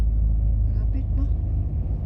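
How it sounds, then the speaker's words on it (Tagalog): Peak hour road traffic in Nice, France makes a continuous low rumble of engines, with a couple of brief higher tones from passing vehicles. "Traffic. Peak hour man."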